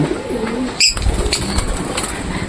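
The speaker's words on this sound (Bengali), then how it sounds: "পাখিগুলো উঠতে পারতেছে না ঠিক মতন" Caged birds are released and struggle to lift off; a single brief burst of flapping wings cuts through, with soft bird calls and cooing around it.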